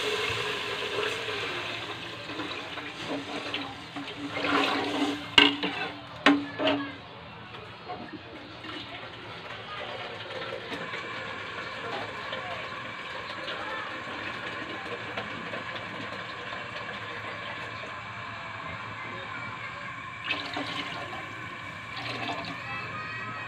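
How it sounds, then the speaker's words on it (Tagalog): Water pours and splashes from a tap into a cooking pot while preparing a dalag fish dish, a loud gushing burst early on settling into a steadier running stream. "Guys, lagyan natin ng tubig."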